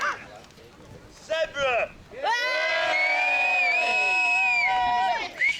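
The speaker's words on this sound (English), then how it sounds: "there was a cheer-off to see which van got the most applause" Crowd cheering and whooping at a field gathering of self-built campervans, a cheer-off between two tied vans: loud sustained voices swell after brief shouts, holding strong for several seconds before trailing off.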